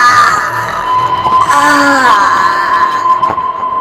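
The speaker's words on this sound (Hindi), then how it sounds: "आदित्य दर्द से चीख पड़ा।" A voice lets out a long, wavering wail that rises and bends in pitch, loud and close, with a brief strained cry near the end.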